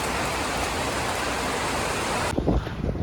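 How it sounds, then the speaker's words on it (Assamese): Steady, dense rain of the year's first downpour falls as an even hiss for most of the stretch, then gives way abruptly to scattered, irregular drips and splashes near the end. "আৰু এই বছৰৰ প্ৰথম বৰষুণ এয়া।"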